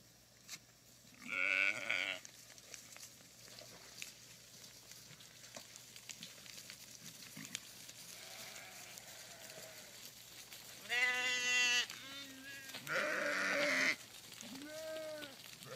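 Sheep on a farm bleat in several distinct calls, a couple of loud close ones with quieter bleats between, over a low background hum.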